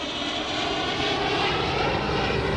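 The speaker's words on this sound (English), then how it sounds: "the airplane will come overhead" An airplane passes overhead in a park on a morning, a steady loud broadband roar of its engine that holds evenly across the moment with no voices.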